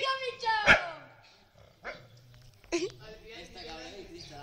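A dog gives a sharp bark, followed by a couple of shorter yips and whines, with people talking excitedly around it.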